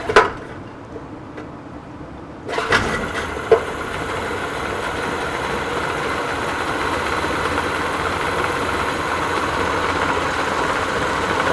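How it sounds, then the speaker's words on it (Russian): A Yamaha 50 outboard motor, newly fitted with a gearcase and impeller, starts and settles into a steady idle after a few clunks, running alone at moderate loudness. "Установили редуктор, запускаем мотор."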